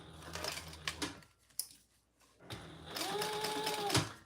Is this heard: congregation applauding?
no